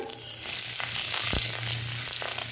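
Panch phoron, cumin and green chilli frying in hot oil in a kadai for an okra and potato curry, a steady close sizzle with a brief louder crackle midway.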